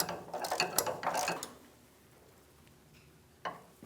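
A ratchet works on a bolt of a 1996-2002 Toyota 4Runner power steering pressure hose, giving a quick burst of close metallic clicking for about a second and a half, then near quiet with one later click.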